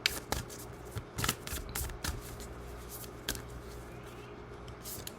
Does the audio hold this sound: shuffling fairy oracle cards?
yes